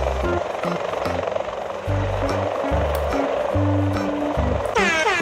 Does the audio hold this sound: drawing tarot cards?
no